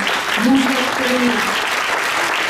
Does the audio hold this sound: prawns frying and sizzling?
no